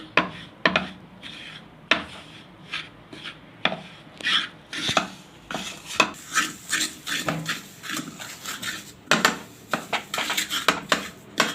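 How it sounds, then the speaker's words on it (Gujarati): Sugar mixed into warm besan in a pan for pedas: repeated rough scraping and rubbing strokes of a spoon against the pan, irregular but steady, close and fairly loud with no talking. "હવે આપણે આને મિક્સ કરી લેવાનું છે"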